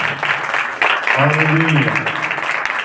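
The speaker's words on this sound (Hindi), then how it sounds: "परमेश्वर की महिमा के लिए ताली जरूर बजाएंगे" Church congregation clapping together in worship, a sustained patter of hands under a preacher's voice that rings out over it partway through.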